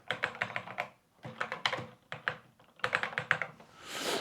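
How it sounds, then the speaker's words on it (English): Keys clatter on a Commodore 64 Ultimate Starlight Edition keyboard, close-up bursts of quick typing separated by short pauses, with a faint rustle at the end and no talking. "I just typed in hello my friends, but you couldn't see that, of course"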